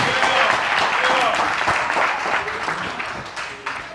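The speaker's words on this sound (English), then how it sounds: "Come on, give him a hand clap." A studio audience claps hands in a church-style setting: a burst of loud crowd clapping that stays dense and then tapers off over a few seconds.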